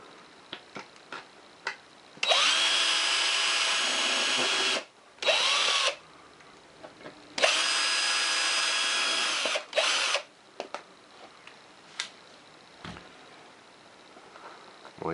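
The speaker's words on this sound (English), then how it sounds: "what I like to do is go ahead and drill down through" A power drill bores through foam board, whirring in two long bursts and a few shorter ones, close and loud, with quiet gaps and small clicks in between.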